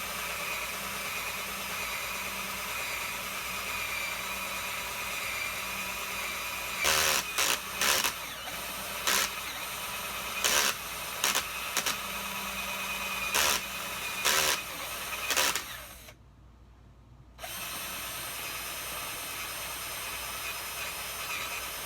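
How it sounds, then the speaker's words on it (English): A drill bores through a block of wood from its far side, in a run of short bursts with pauses between them, against a steady background hum. "we're gonna put the drill bit right in that little hole, and then drill on the other side."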